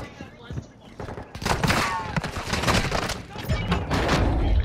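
A rapid series of booming blasts and crackling impacts from an airstrike in Call of Duty: Modern Warfare II, loud and close, with voices talking over the explosions.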